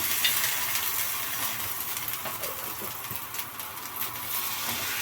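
Ginger and garlic paste frying in a pan for lentil khichdi makes a steady, moderate sizzle with faint crackles and occasional stirring scrapes throughout, with no voices.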